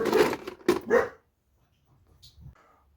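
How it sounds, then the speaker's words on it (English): A dog gives three loud, close barks in quick succession, then falls silent, leaving only faint rustling and soft low thumps. "the dog decided to bark"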